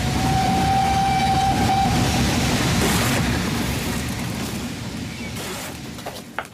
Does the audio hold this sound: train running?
yes